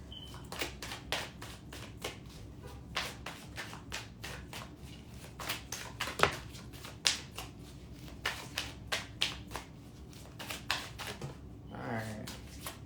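Rapid riffling and snapping of playing cards being shuffled up close, in quick repeated bursts with short pauses between.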